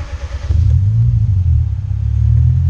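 A Hyundai HB20 fitted with a 4-in-1 header gives a deep, steady engine and exhaust rumble close by, swelling slightly as it runs.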